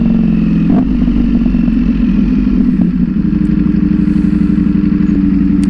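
A Ducati Panigale V4 motorcycle idles loud and close, a deep, steady lumpy rumble with a slight blip of revs near the start and mechanical clatter underneath, no talking.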